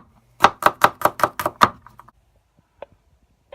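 A knife rough-chops garlic on a board: seven quick, evenly spaced sharp chops close up, then a few faint taps and one last isolated knock.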